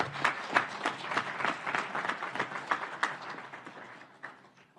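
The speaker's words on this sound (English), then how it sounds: "we should give a round of applause to the United Nations for recognizing the importance of women" Applause from an audience at a humanitarian awards show, dense clapping sustained throughout at moderate distance, fading slightly toward the end.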